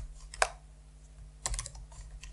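Short bursts of keystrokes on a computer keyboard as a word is typed, two quick clusters of clicks separated by a pause, close and clear over faint background hum.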